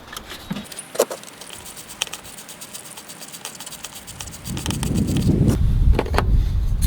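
A wrench loosens the positive terminal on a corroded car battery, making close, sparse metallic clicks and scrapes that give way to a louder, steady rasping scrape toward the end.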